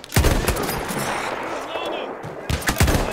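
Sharp, close gunshots crack in the Battlefield 1 video game, a burst at the start and several more near the end, over a continuous noisy battle bed with someone speaking German.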